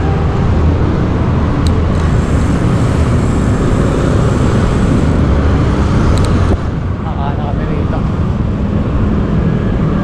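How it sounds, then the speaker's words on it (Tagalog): Loud, continuous road traffic roar heard while riding through Bacoor and Kawit in Cavite, with wind buffeting throughout and people talking over the noise. "Traffic lang."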